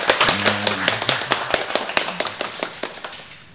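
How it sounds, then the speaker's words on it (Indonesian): Clapping at a school worship service opening a new school year, a smallish group of children giving sharp, fairly sparse claps close by, with a brief sung or voiced tone at the start. "Tepuk tangan untuk Tuhan Yesus ya."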